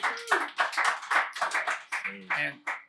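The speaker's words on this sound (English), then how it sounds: "Let's give Kendall a round of applause being with us here tonight" A small group claps in a short, uneven burst for a basketball player at an evening talk event, close and dry, with a voice speaking over the clapping.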